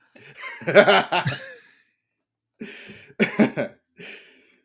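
Someone coughs close by in two rough clusters of hacking coughs separated by a brief silence, ending with a faint throaty trailing sound.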